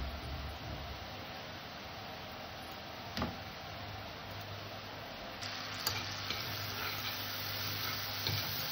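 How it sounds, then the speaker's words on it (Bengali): Butter melts in a kadai (wok) on a gas stove while rabri is being made, giving a faint, steady, soft sizzle with a few light ticks and clicks, and no voices. "একটু বাটার দিয়ে দিলাম।"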